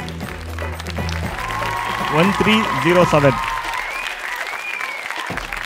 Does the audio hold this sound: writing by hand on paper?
no